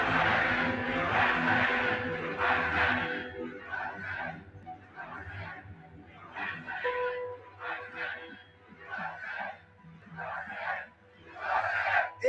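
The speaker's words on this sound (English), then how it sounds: "This is a big crowd." A large crowd roars and cheers in waves, voices blending into a dense hubbub with bursts of shouting that swell and fade, heard from some distance.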